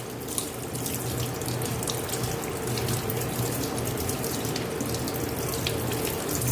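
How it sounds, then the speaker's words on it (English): A dishwasher filter rinsed under a running kitchen tap, a steady loud rush of water splashing over it continuously throughout, with no voices. "I'm just washing it only through water"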